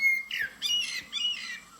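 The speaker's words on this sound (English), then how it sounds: "a nice scrolling video of the blackbird" Blackbird song played back from a recording: a few clear whistled phrases with rich warbling notes, three short bursts in quick succession, moderately loud over a faint background hiss.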